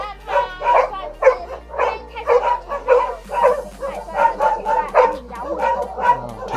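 Dogs, including a German Shepherd, bark at a shelter in a rapid run of about a dozen loud, close woofs and yips, with short gaps between them and a steady low hum beneath.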